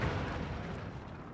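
Artillery explosions in the physics-based RTS video game Forts: a dense, deep rumbling boom with heavy low-end blasts rolling together and fading slightly over a second and a half, with no talk.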